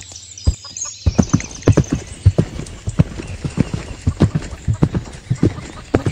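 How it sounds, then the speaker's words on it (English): A horse's hooves clop on hard ground nearby in an uneven series of firm, distinct footfalls, a brief whinny-like sound at the start, over light background noise. "My horse is stepping on my body parts."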